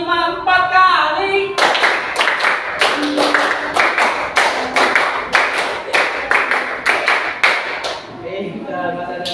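A group of children claps in a steady rhythmic pattern during a school activity, roughly a dozen crisp, evenly spaced claps following a teacher's spoken cue, with voices at the start and end.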